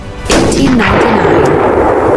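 Gunfire marking the February 1899 outbreak of fighting at Santa Mesa: a sudden loud blast hits after a brief quiet moment, then a sustained booming, rumbling roar as if a whole line of guns opens up.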